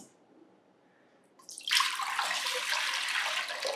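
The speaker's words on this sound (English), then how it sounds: "Put a bunch of water in there." Tap water runs into a Dutch oven after a quiet start, a steady close splashing stream that begins about halfway through and keeps going to the end.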